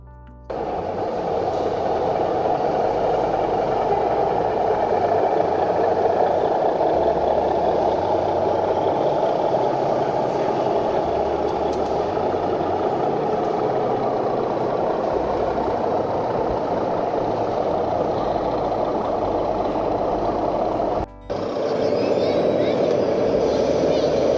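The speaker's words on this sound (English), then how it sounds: "the addition of DCC sound on these diesels just really brings them to life" An O gauge model diesel locomotive with DCC sound runs on a large portable exhibition layout, giving a steady, loud engine drone with a low rumble that holds for over twenty seconds, broken only by one brief dropout near the end.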